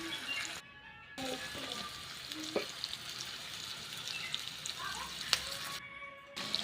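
Tomatoes frying in a pan on a home stove give a continuous, moderately soft sizzle, with a few light clicks and stirring knocks over it.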